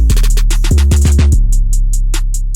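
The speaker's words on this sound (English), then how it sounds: "So how you go about constructing a snare roll like this" A programmed trap snare roll made in FL Studio rattles in fast repeated hits that shift in pitch, backed by booming low 808 tones, loud and upfront with no voice.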